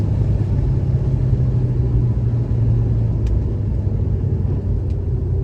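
A 1970 Ford Mustang fastback's V8 engine rumbles steadily while the car drives along a road, a low, loud, constant drone with no talking.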